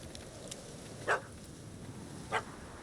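A dog in The Witcher 3 gives two sharp, separate barks about a second apart, moderately close and clear above a quiet ambient background.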